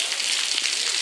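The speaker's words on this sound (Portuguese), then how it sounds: "a chuva caindo" Heavy rain pours down in Acaraú, Ceará, a dense, even hiss of drops on surfaces with no voices.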